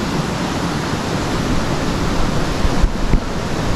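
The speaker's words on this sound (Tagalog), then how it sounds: "Pero lakas din ng ilog." A strong river current rushes in a broad, steady roar of water, loud and close, with slight surges near the end and no voices.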